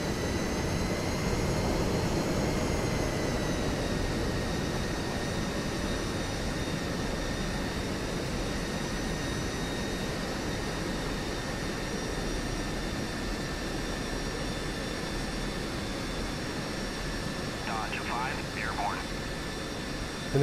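An F-16C jet takes off in the DCS flight simulator, a steady loud engine roar with sustained whining tones running the whole time while someone talks over it.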